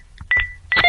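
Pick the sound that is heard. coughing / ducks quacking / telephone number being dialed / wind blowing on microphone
telephone number being dialed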